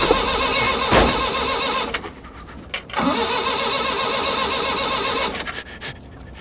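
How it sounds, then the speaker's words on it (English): A car engine in a movie scene cranks repeatedly but fails to catch, loud and close, with a brief lull partway through before the cranking resumes. "the car won't start"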